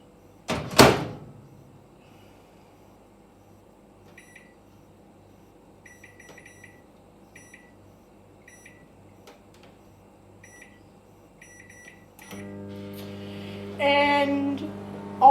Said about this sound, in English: I'll be able to microwave my dinner